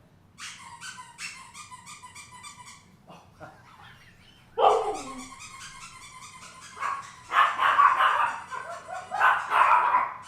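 A dog named Finn barks and yips at close range indoors, first in a quick string of barks, then after a short pause in louder, overlapping, excited barking that keeps going.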